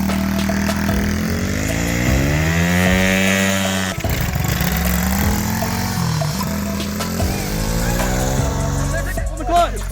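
A new pit bike engine revs hard and continuously close by, rising and falling in pitch as the throttle opens and eases. It stays loud throughout, with a brief dip in the middle.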